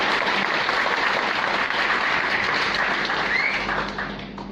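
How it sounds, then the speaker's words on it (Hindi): A crowd at a business speech in Surat, Gujarat breaks into loud, dense clapping that holds steady for several seconds before thinning slightly at the end. "एक बार जोरदार तालियां दीजिए।"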